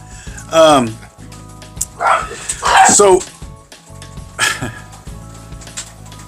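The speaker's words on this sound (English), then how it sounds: "So you might hear some barking" A dog barks and yips in several short bursts, fairly close, with pauses of quieter room noise between them.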